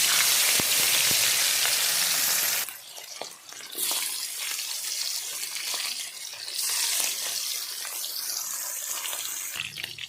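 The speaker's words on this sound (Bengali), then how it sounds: "সরিষার তেল গরম হয়ে গেছে। এবার একে একে মাছগুলো ভেজে নেব।" Rupchanda fish frying in hot mustard oil in a kadai, a steady loud hiss with a brief crackle at first, dropping then settling into continuous sizzling as pieces go in.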